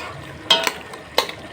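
Spicy layer chicken curry stirred in a pot with a spoon, giving a few quick scraping strokes against the metal over a soft background hiss, close and fairly loud.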